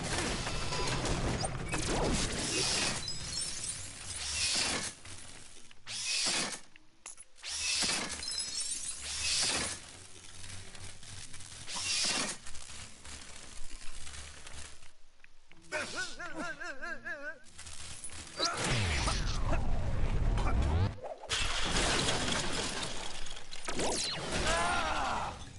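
Objects are smashed to pieces in the LEGO Marvel video game: loud, repeated crashes and shattering bursts over about twenty-five seconds, broken by brief pauses, with occasional short vocal exclamations.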